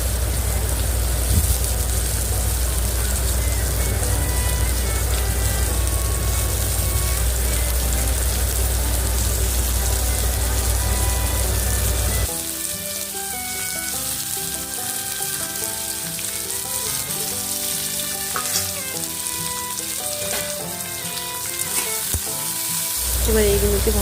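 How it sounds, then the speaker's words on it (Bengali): Mixed vegetables frying and sizzling in hot oil in a wok while Masala Maggi is being made, a steady loud hiss throughout, with the sizzle changing and crackling more sharply partway through as the vegetables are stirred. "কড়াইতে তেল গরম করা হয়ে গেছে। এবার আমি আস্তে আস্তে সমস্ত সবজিগুলো দিয়ে দিচ্ছি।"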